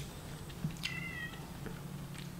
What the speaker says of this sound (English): I can already hear the cat in the background just meowing.